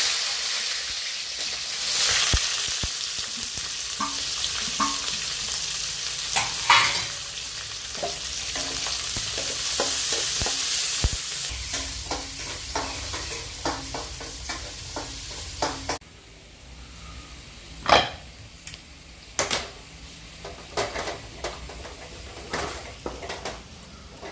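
Shallots, garlic and sliced onion fry in a pan, giving a steady, loud sizzle broken by occasional stirring clinks. The sizzle softens partway through.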